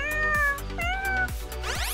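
A kitten gives a string of three or four high, drawn-out meows up close, one after another with short gaps and no talking.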